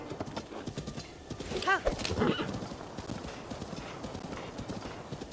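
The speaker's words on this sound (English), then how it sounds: "I'll stay on the horse for this one." A horse in Zelda: Breath of the Wild gallops with rapid, steady clip-clop hoofbeats and lets out a clear neighing whinny partway through, all close and fairly loud.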